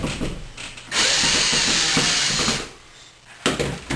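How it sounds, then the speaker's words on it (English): A power driver sets the mount screws that fasten an electrical outlet to its wall box, giving one loud, steady whirring burst of under two seconds between quieter handling sounds. "we screw in the mount screws, securing the outlet to the box itself"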